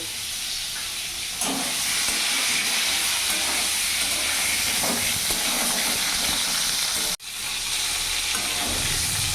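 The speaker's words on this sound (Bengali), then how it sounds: "পটলটাও লাল লাল করে ভাজা হয়ে গেছে" Pointed gourd (potol) frying in hot oil for a potol aloo kosha, a steady close sizzle and hiss with stirring scrapes running throughout and a brief dropout near the end.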